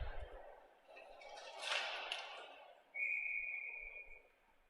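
A referee's whistle blows in an ice hockey game between Team Massachusetts and Team New Hampshire, a sustained shrill tone lasting over a second amid crowd and arena noise, following a louder burst of rink sounds.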